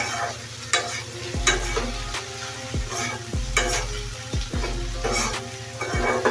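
Pointed gourd (patol) bhaji frying in mustard oil, with a steady sizzle and repeated sharp scrapes and taps of a spatula against the pan, close and without speech.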